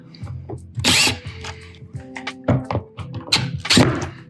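A power drill drives a screw into a stair rail during a budget staircase remodel, firing in several short bursts with pauses between them, close and fairly loud.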